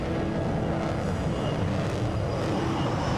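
A jet aircraft roars on the deck of the aircraft carrier USS George H. W. Bush as it launches, a loud continuous engine rumble and whine with no pauses.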